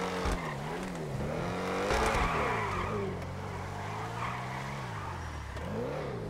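A Ford Mustang GT in GTA 5 growls through wavering engine revs, rising and falling as it accelerates, with tire squeal and skidding mixed in, loud and close throughout.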